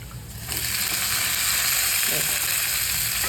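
Garlic, green chili and onion for dill (shepu) bhaji hit a hot pan and burst into a loud, close sizzle that holds steady after a quieter opening.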